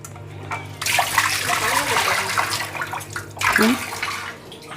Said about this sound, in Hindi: हम थोड़ा थोड़ा करके पानी डालेंगे, एक साथ बहुत पानी नहीं डालेंगे।